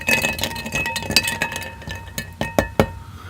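A Manhattan made with bitters and Grand Marnier is lightly stirred in a glass, with close, repeated ice clinks against the glass that grow sharper and more spaced toward the end.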